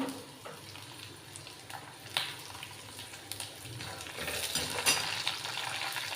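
Green chillies frying in a pan for kanda poha give a steady low sizzle, with occasional stirring scrapes and a few sharper clinks of a utensil, growing slightly louder toward the end.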